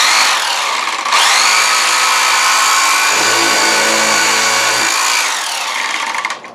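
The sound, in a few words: Craftsman vibrating sander running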